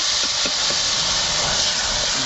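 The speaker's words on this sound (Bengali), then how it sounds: "অল্প একটু হলুদ দিয়ে এই মাছগুলোকে আমি ভেজে নেব।" Small dried shrimp frying in oil with salt and turmeric give off a steady, dense hiss and sizzle, close and even throughout with no talk.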